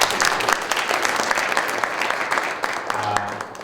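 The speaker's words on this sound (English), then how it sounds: "Can we give them a round of applause?" Conference audience applause after a question session at IPM 2019, dense and steady clapping from many hands filling the room for several seconds, with a few faint voices mixed in.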